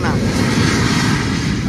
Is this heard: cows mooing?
no